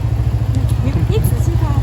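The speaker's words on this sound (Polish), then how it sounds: "Wyłączę ten motor trochę" A motorcycle engine idles steadily close by on a street in an old city neighbourhood, a constant low rumble filling the short stretch, with faint background sounds over it.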